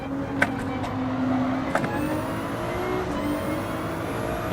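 Nissan GT1 racing car in Gran Turismo 7, a steady loud engine drone holding a sustained pitch with slight rises, plus a few sharp clicks and faint high whines, no voices.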